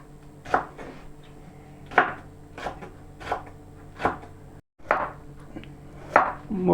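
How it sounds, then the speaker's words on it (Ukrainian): A knife chops bell pepper on a cutting board for Ukrainian borscht, giving seven crisp, close strokes at an even pace of roughly one every three-quarters of a second, with no talking. "Ну, Перчик уже подрібнемо так, як сказати, звичайним способом природним."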